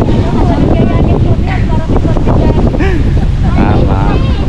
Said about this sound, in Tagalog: Grabe hangin natin.